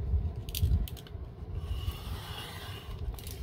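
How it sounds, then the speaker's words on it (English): Scissors snip through painter's paper in a few quick crunchy cuts close by, with soft rustling and handling noise between the bursts. "I'm just gonna cut it"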